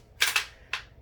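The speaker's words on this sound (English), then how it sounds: "that click-clack sound of a shotgun shell being loaded into a shotgun" A shell racked into a Stevens 320 pump-action shotgun makes a close, sharp mechanical click-clack: a quick double clatter of metal followed by a single crisp snap a moment later, with no talking.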